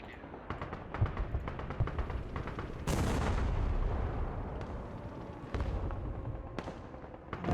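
Mortar fire in the video game Broken Arrow: a string of booming launches and distant blasts, with a heavy, sustained impact rumble near the middle and sharp cracks around it.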